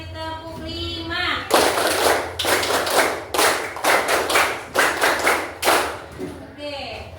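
Classroom of schoolchildren clapping a counted rhythmic pattern of twos, threes and fives, loud close bursts of many hands in quick groups separated by short pauses, with a voice heard briefly before and after.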